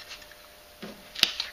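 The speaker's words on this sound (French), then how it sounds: "je vais maintenant découper les petits papillons" Small scissors cutting out little paper butterflies from paper scraps for a handmade birth announcement, a few faint, quiet snips and a sharper clip near the end in a hushed room.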